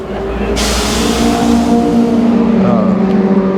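Porsche 997 GT3 RSR race car at Le Mans Classic roaring past close by, a loud, rising engine note that fades as it moves away, with a crowd murmur under it.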